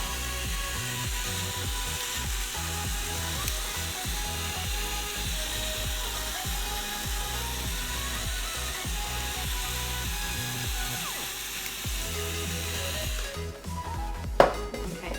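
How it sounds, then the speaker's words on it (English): A pepper grinder set to a fine grind crunches in a steady, continuous rasping with small ratcheting clicks, close and fairly loud, ending with a brief sharp clack. "I always like my pepper to be ground quite fine, so you don't get big chunks"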